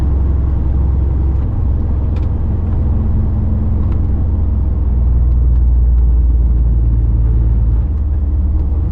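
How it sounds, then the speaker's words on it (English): A truck, a Class 2 delivery lorry, drives along the road with a steady low engine rumble and road noise close up and continuous, with no talk. "It's not been a bad little drive, this truck"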